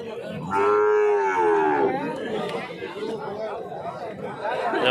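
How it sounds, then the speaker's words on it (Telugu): A calf lets out one drawn-out moo up close at a calf market, followed by a crowd of people chattering in the background. "ఇదో దూడ"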